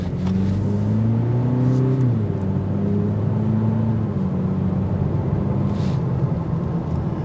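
A 2025 Cadillac CT4 Sport with a 237-horsepower engine accelerates. A loud, close engine note rises in pitch through the gears, with a shift around two seconds, then settles into a steady, rumbling pull.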